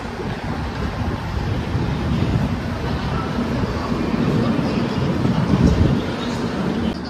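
Howrah–SMVT Bengaluru SF Express 12863, running late, at Cuttack, platform 4, heard from inside a 3A coach; a loud, steady low rumble and rushing wind-like roar continue without a break.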